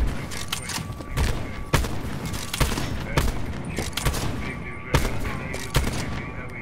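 Gunfire in a Nuketown sniping match, with a series of loud, sharp shot cracks at irregular intervals over constant game noise, close and punchy, no clear talking.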